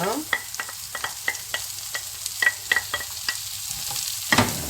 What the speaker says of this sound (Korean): 양파하고 마늘 넣어요. 자, 마늘 넣고 상태를 같이 볶아주세요